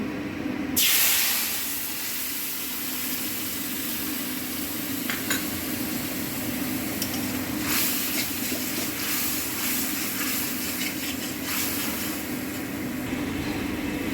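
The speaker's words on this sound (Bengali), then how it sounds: "মশলাগুলো ভেজে নেব।" Spices frying in a pan for soya chaap curry give a steady close sizzle and hiss, beginning with a sharp burst as they hit the hot oil, with occasional stirring scrapes.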